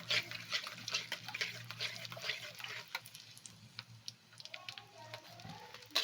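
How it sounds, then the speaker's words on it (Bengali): Olive pickle with garlic and bay leaves stirred in a pan, giving soft scraping and light patter with faint sizzling throughout, quiet and close. "এবার দেখুন নাড়িয়ে নিচ্ছে।"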